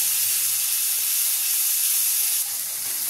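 Ginger and spices, including Kashmiri chilli powder, fry in a pan over a low gas flame, giving a steady, moderately quiet broadband sizzle and hiss that holds evenly for about three seconds with no talk.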